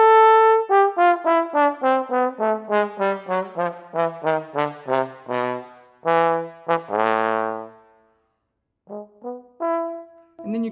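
Tenor trombone playing a TMEA etude intro in strict time, a run of short detached notes in a steady pulse followed by longer sustained tones, a pause and a few closing notes, clear and solo.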